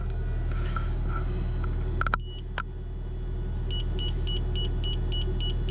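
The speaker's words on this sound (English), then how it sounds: "that is the god-awful incessant beeping" A steady run of short, high electronic beeps from an ARB tyre pressure monitoring system alarm repeats evenly over a low engine hum, after a couple of brief clicks.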